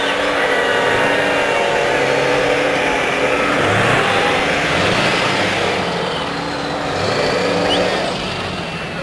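A Ford Bronco GT truck revs hard during a truck pull, its engine roaring loudly and surging with rising and falling pitch over about nine seconds, with crowd voices faintly beneath.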